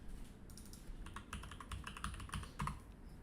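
Fingers tap out a password on a computer keyboard in short bursts of quick, close, clicking keystrokes with brief pauses between them.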